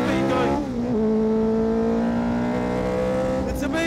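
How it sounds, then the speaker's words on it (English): A powerful racing car with big rear tyres accelerates hard, its engine whining steadily upward through the gears, loud and sustained, with a narrator talking over it. "Even with the big rear tyres, it's so easy to light up the rear tyres"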